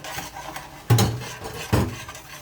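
Eggs scrambled in a pan for homemade dog food with a beef mixture, two sharp scraping knocks of utensil against pan standing out over a quiet background, with no talking.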